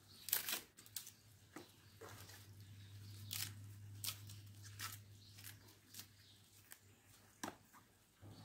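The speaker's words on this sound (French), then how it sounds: "Après, à la main, j'arrache les parties de l'âme qui restent encore." Faint fibrous tearing and snapping of a cardoon stalk by hand, a series of short crisp rips spaced a second or so apart over a steady low hum.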